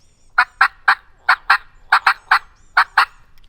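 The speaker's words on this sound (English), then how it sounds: "She was cutting and yelping. It's kind of a combination." A wild turkey hen cuts and yelps loudly and close, with rapid, sharp clucking notes in quick irregular bursts mixed with yelps, about a dozen sharp notes.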